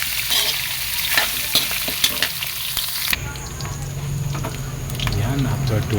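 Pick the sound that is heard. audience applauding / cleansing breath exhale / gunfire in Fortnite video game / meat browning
meat browning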